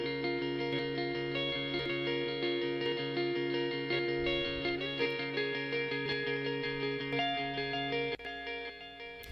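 An electric guitar sustains chords and notes through delay, compressor and reverb effects, with echoing repeats smeared into a dense, even wash that stays loud throughout and dips slightly near the end.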